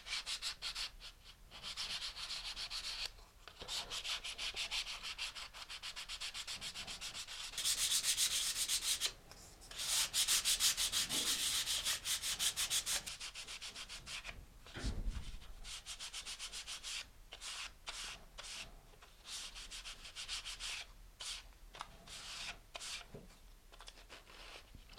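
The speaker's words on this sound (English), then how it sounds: "I'm going to take some fine grit sandpaper, and I just want to smooth out the entire surface of the fin." Fine grit sandpaper rubs across the surface of a competition parachute-duration rocket fin, a steady scratchy sanding in repeated strokes, close and fairly loud with short pauses between passes and no voices.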